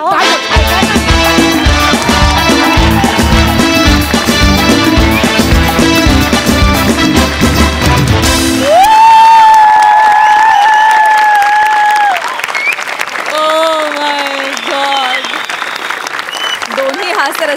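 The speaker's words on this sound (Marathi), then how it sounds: "दोन्ही हास्यरसिकांनी उभे राहून टाळ्या वाजवल्यात." A comedy-show audience gives a standing ovation, with loud, sustained clapping over upbeat music for about eight seconds, then softer cheering and applause under sustained tonal music.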